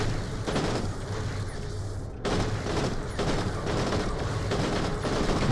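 Heavy gunfire in the Borderlands: The Pre-Sequel shooter game comes as rapid, loud bursts of overlapping shots and booms that repeat with only a brief gap.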